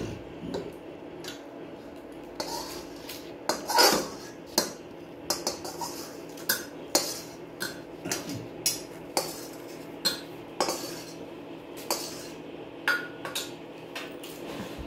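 Repeated clinks and clatters of a metal pot and utensils being handled as mutton goes into a pressure cooker, irregular sharp knocks spread across the clip, close by with no talk.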